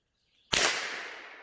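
A single gunshot strikes a steel target outdoors, one sharp loud crack that rings out and decays over about a second.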